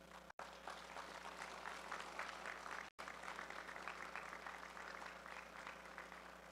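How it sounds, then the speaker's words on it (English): At a national powerlifting championship medal ceremony, the audience gives a round of applause for a first-place masters lifter, steady dense clapping in a large hall, fairly faint and briefly cut twice. "a big round of applause for Mr. Mike Nichols"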